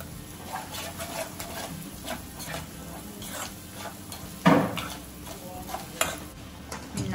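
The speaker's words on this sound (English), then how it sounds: "Now we just have to mix it." A spoon stirs a rajma masala mixture in a cooking pot with soft scraping and occasional knocks against the metal, a faint sizzle running underneath and one louder clank midway.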